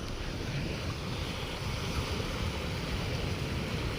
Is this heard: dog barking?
no